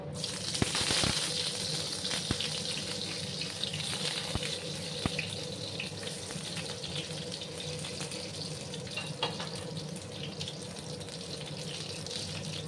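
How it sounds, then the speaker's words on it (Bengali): Pieces of pointed gourd (potol) frying in hot oil in a pan make a steady, continuous sizzle that hisses evenly throughout, with no one talking. "এবার আমি একে একে পটলগুলো দিয়ে তারপর আমি ভেজে নেব।"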